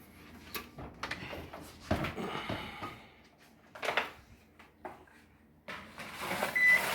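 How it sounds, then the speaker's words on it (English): Kitchen oven door swung open, a few clunks and thuds of the door and racks with rustling movement, moderately close, followed by a louder rattle near the end. "All right, open the oven for you."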